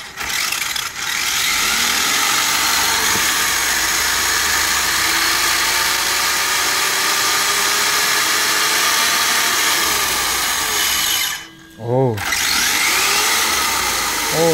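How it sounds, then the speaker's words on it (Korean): A Traxxas Mini Savage RC car's small engine, run on an 11.1-volt 3-cell battery, drones steadily at idle, a constant buzzing whine with faint outdoor background, briefly dipping near the end before resuming. "공회전만 시킬게요"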